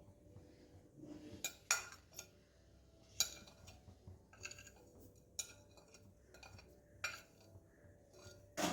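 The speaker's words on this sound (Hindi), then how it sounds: "इसको अच्छे से मिक्स करते हैं।" A spoon stirs chicken filling with spices in a bowl for cheese bread balls, giving sharp clinks against the side at irregular moments over soft scraping, all quiet and close.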